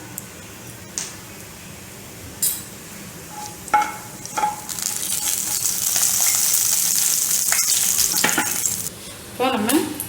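Fennel seeds dropped into hot oil for tempering a sprouts gravy, giving a steady sizzle and crackle that swells midway, with a few light spoon stirs and clinks against the pan, close and alone without talk.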